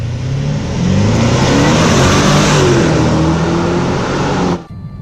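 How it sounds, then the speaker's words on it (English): A BMW X5 50i's naturally aspirated V8 holds a loud, steady, deep engine roar for several seconds before cutting off abruptly near the end, with no talk over it. "the X5 50i's sounds like a proper naturally aspirated V8."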